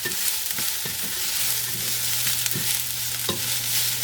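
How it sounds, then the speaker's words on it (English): Onions fry with a bright steady sizzle in a pan, punctuated by several distinct knocks and scrapes of a utensil stirring them, close and fairly loud with no talking. "You do want to give your onions a bit of a stir now and then"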